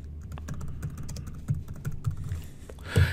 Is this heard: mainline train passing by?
no